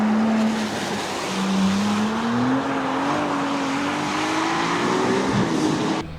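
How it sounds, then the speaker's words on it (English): A Ferrari F80 hypercar drives past with a fairly subdued engine note that rises steadily in pitch as it accelerates, over road and tire noise, moderately loud with no talking. "the Ferrari F80 isn't gonna make much of a sound"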